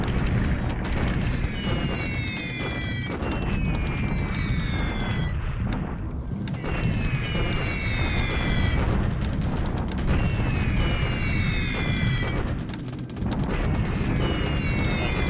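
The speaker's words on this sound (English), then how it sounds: "Still doing a little bombing here, but not inflicting a lot of damage on the Chinese." Bombing explosions in a war strategy video game, repeated booms and blasts rumbling under a steady din of gunfire-like crackle and game sound effects, fairly loud throughout.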